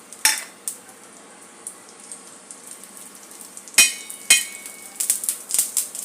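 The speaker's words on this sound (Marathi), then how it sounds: "थोडेसे तेल घातले आहे तव्यामध्ये आणि हा कांदा आपण परतून घेऊया।" Onion being sautéed in a little oil on a tava, a faint low sizzle broken by sharp clicks and scrapes of a utensil against the pan that grow more frequent toward the end.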